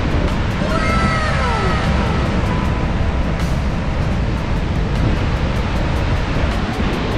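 Steady broad roar of Niagara Falls heard from above the falls on a misty morning, a continuous loud wash of water noise with wind, without speech.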